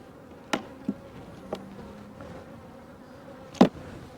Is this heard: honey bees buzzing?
yes